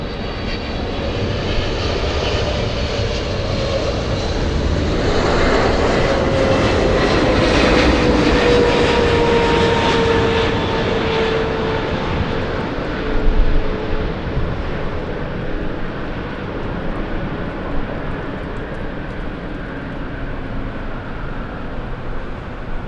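An airliner on a flight from Paris passes at LAX airport, its jet engines building into a loud, broad roar with a falling whine that peaks midway and then fades slowly into the distance, with no voices.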